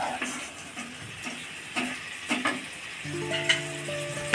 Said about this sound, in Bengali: এবার এই মশলাটা দিয়ে আমাদেরকে ভালোভাবে কষাতে হবে